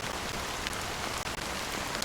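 Steady rain pours in the video game Honkai Star Rail, a dense continuous patter with no talking.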